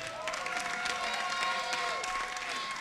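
An audience applauds and cheers for singer Samantha Wemba at the Vodacom Best of the Best talent show, giving a steady, loud wash of clapping and crowd noise with sustained tones running underneath.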